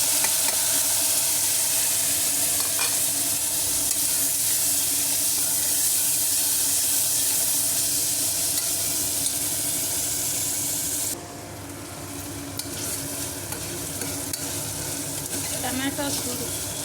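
Four cut tomatoes frying in a pan for egg pulusu give a steady, close sizzle with light crackle that runs throughout and drops slightly softer partway through.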